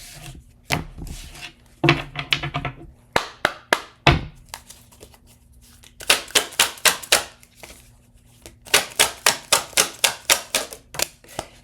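Bursts of crisp, rapid card riffles and taps as a single tarot deck is shuffled, repeated flurries of quick clicking separated by short pauses, close and fairly loud with no talk.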